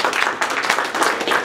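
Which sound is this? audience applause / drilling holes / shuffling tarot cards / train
audience applause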